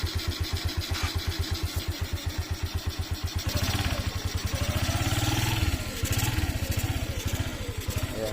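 Motorcycle engine with a small carburetor running just after a cold start, a loud close chugging idle that first pulses in even beats, then rises into a smoother, busier rev with uneven throttle swells.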